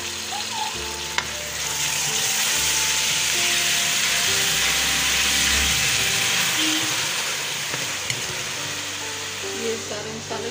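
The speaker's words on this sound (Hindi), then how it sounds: "ये टमाटर का पेस्ट शामिल कर रही हूँ।" Tomato paste sizzles loudly in a hot pan while cooking beef with split chickpeas, a continuous close frying hiss with occasional stirring clicks.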